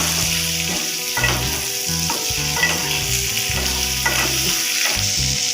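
Okra slices frying in oil in a pan for a sweet-and-sour dahi bhendi, a steady dense sizzle running the whole time with some faint tonal background music, close and even, no talking.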